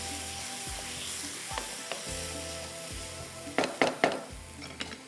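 Red chili powder dropped with curry leaves into hot oil gives a steady close sizzle, with a few sharp spoon and pan clinks and bursts of stirring toward the end.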